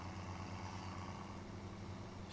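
A tractor engine in Farming Simulator 2017 drones steadily throughout, a continuous low hum at a constant pitch with no breaks, like a vehicle cruising at a slow, even pace.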